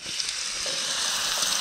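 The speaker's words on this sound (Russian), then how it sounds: "Вот и картошечка пошла. Жарится." Potatoes frying in a pan at an outdoor fishing camp, a steady close hiss and sizzle with no talk.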